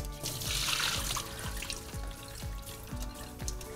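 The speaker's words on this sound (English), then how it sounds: "so let's drain the rice." Water drains from soaked basmati rice with a steady trickle and splash, broken by a regular series of soft knocks.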